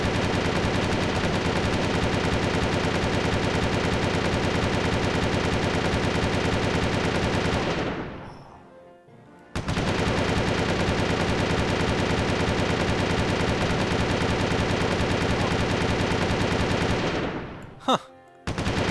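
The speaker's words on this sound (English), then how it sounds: "What happens if I just start shooting the town?" Sustained automatic gunfire from shooting at a town in the video game Windforge, a loud continuous rattling burst that cuts out briefly, resumes for several more seconds, then stops with a final shot.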